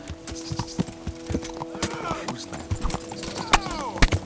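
Horse hooves clip-clop in the video game Kingdom Come: Deliverance, a steady run of hoofbeats over game sounds, with a short whinny near the end.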